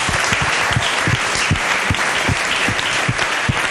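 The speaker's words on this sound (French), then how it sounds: "on applaudit très très fort" Loud, sustained audience applause at a French children's celebration event, thick crowd clapping with some stronger individual claps standing out in a fairly even rhythm throughout.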